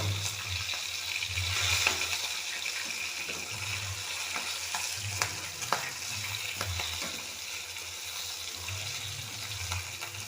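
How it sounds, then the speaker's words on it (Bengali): Low, steady sizzle of a fish head frying in oil throughout, with a soft rumble underneath and a few light clicks of a utensil. "এই মাছের মাথাটাকে ভাজি ভালো করে"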